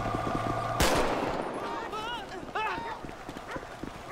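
A single loud gunshot goes off in GTA V during a city police patrol, followed by a noisy street ambience with some chirping, tonal sounds and scattered thumps.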